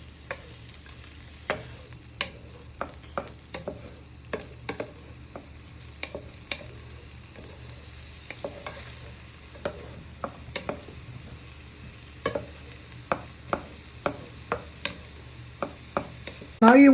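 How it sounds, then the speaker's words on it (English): Shallot and garlic frying in a little oil, a soft continuous sizzle broken by frequent sharp clicks of a utensil stirring the pan, with no voices. "So you're just cooking your shallot and garlic and a little bit of oil."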